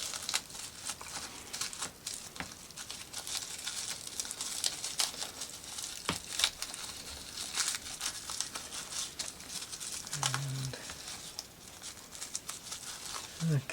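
Plastic packaging crinkles and rustles almost nonstop as a dollhouse diorama component is unwrapped, with sharp crackles throughout and a voice faintly present.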